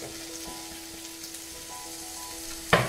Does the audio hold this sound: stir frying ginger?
yes